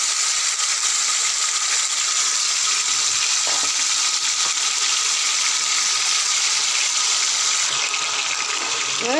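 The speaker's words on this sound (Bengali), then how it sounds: "এই পুরো চিকেনটা আমি এর মধ্যে দিয়ে দিলাম" Marinated chicken goes into a hot pan of spices, raising a loud, steady hissing sizzle that stays even and close throughout.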